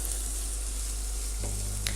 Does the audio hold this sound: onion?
yes